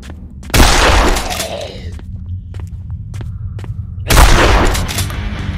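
Two loud, sharp gunshots in the zombie video game Zompiercer, each a heavy blast with a long decaying tail, separated by a few seconds of quieter ambient rumble.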